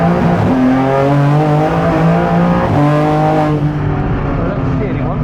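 A BMW M4 GT4 Evo race car engine at the Nürburgring, heard from the cockpit: loud, steady harmonic drone rising through gears with shifts, continuous and close, with occasional voice over it.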